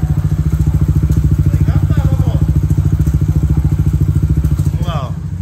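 A Honda Fan 150 motorcycle engine runs in gear up close, a loud, steady low thumping idle rhythm that continues unbroken, with someone talking faintly over it.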